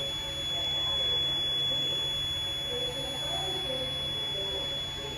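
A Notifier NFS320 fire alarm system sounds during a fire drill at a career technical center, a continuous droning buzzer tone holding steady throughout, moderately loud with faint room noise beneath.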